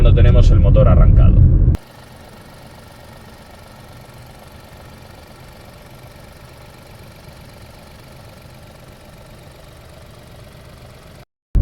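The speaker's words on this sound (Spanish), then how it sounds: "Vais a ver cómo suena el motor tricilíndrico cuando tenemos el motor arrancado." A 2024 Seat Ibiza 1.0 TSI three-cylinder engine with 115 hp idles with a steady, even low hum and slight roughness, heard up close after a brief loud burst at the start.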